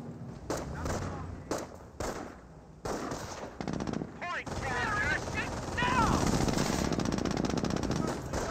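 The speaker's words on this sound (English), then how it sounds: "we do have the MG42 starting to engage the Jeep, getting some great damage there" Bursts of MG42 machine gun fire in the Company of Heroes strategy game, rapid rattling volleys mixed with other gunfire and battle effects, while a commentator talks over the action.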